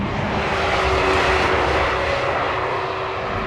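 The flat-12 engine of a Ferrari Testarossa, nearly 5 liters and 385 horsepower, drones steadily and loudly from inside the cabin while driving on the road, a continuous broadband roar with no talk.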